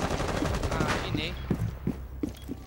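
Gunfire in a game on the Club map: a run of sharp, evenly spaced shots near and fairly loud, breaking off at intervals under voices talking.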